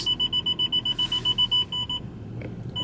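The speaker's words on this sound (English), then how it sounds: "Parking sensors." Parking sensor in a car being test-driven before purchase, beeping in a steady fast rhythm of about fourteen short evenly spaced pulses that stop partway, with a quiet cabin around it and no talking.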